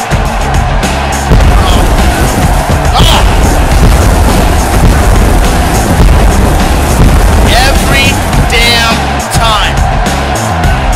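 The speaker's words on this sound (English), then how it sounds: "Every damn time those fireworks catch me off guard." Pyrotechnic fireworks go off at a professional wrestling show, loud booming blasts and crackling bursts that fill the hall over a dense roar of sound, with a few whistling streaks near the end.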